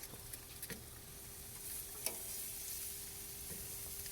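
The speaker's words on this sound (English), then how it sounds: "We put the kebabs on the grill." Kebabs sizzle on a grill in a faint, continuous hiss, with a few light ticks and pops.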